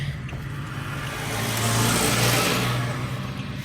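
A car rolls along close behind on a narrow tarred street in a McKeesport, Pennsylvania neighborhood, its mid-pitched engine hum steady and near, swelling slightly in the middle of the stretch before easing off.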